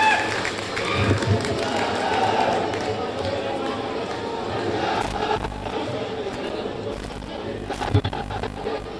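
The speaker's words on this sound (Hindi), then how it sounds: "जोरदार तालियों के साथ चौधरी भूपेंद्र सिंह हुड्डा जी का स्वागत करें" A rally crowd in Kurukshetra applauds and cheers to welcome Bhupinder Singh Hooda, a dense, steady wash of clapping and crowd noise with a few louder bursts.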